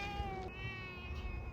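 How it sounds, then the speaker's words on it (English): A cat meowing, one drawn-out, fairly quiet mew over low background hum, no talking. "That's a cute little cat."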